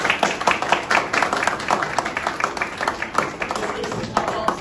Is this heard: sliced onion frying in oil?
no